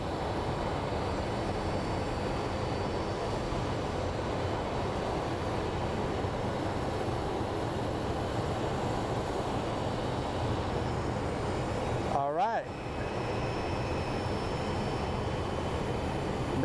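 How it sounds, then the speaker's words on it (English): Passenger jet arriving from Charlotte taxis to its gate at Phoenix Sky Harbor International Airport, a steady broad engine roar running throughout at moderate distance, with a short whining tonal sweep near the end. "That is our flight that came from Charlotte, as it is taxiing to its gate."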